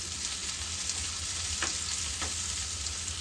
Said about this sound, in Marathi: पनीर आपलं फ्राय करून झालंय.